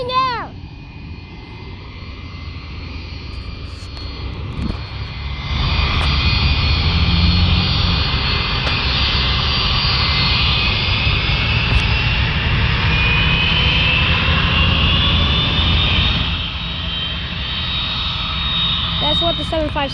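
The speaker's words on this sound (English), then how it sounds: "The Beechcraft King Air just came and he's not going." Beechcraft King Air airplane at Fort Bragg military airfield, its engines roaring steadily and loudly for most of the stretch, swelling then easing slightly, with people talking excitedly over the noise.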